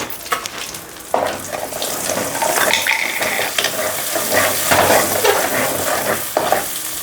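Raw chicken hits hot oil in a pan for a chicken tomato curry, setting off a loud, continuous sizzle with stirring and bubbling close by, no talking.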